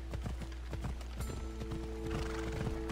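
Horse hooves in the Assassin's Creed Odyssey video game clip-clop in a quick, steady rhythm, joined by a whinnying neigh, moderately quiet over a constant low game ambience.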